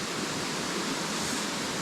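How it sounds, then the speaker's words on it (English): Water rushing along a stream at night, a dense continuous hiss and wash of flowing current, steady and close with no voices. "God, listen to that water."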